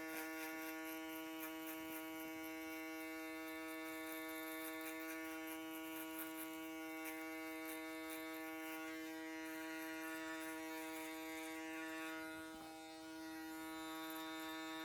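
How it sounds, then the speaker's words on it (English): An electric foil shaver buzzes steadily during a barber's haircut, a close, continuous tonal hum with faint variations as it moves over the hair, with no voices. "foil shaver"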